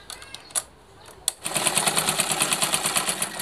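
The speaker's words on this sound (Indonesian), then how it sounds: "Ini suaranya kasar mungkin karena belum dikasih minyak" Old vintage sewing machine, not yet oiled, starts after a few clicks and knocks, then runs with a rough, rapid, rattling mechanical rhythm close by while a voice speaks briefly.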